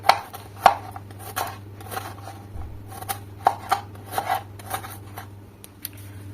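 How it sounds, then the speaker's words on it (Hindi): Radish being finely chopped with a knife on a board, a series of irregular close taps and scraping cuts, with a steady low hum underneath and no talking. "इसलिए मैं मूली को बारीक काट रही हूँ क्योंकि ये ग्राइंड जल्दी नहीं होती"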